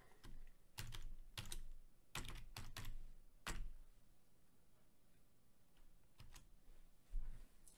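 Computer keyboard typing in several quick bursts of close, crisp key clicks, with short pauses between runs as an email address and password are entered for an account login.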